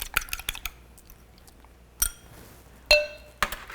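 Two eggs are tipped from a bowl into brownie batter, with a few close, bright clinks of the bowl against the rim and soft taps between them.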